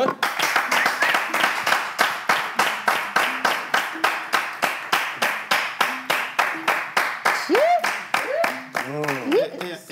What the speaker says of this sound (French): Attention, mesdames et messieurs, on applaudit Boris Kett.